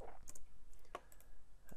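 A few sharp, quiet computer mouse clicks come in a sparse, irregular pattern against a near-silent background.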